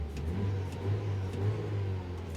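A Peugeot 308 CC engine with a high-pressure fuel regulation fault revs up, giving a steady, loud low drone that swells in two gentle surges, heard up close with no talking.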